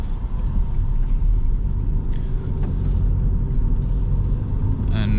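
Interior road noise inside a 2024 Toyota Yaris Hybrid while driving: a steady low rumble of tires and engine filling the cabin, continuous and even throughout.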